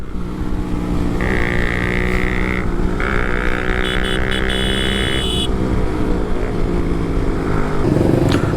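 A motorcycle on its stock regular exhaust drones steadily while riding, a loud continuous engine hum with shifting whining tones and no pauses.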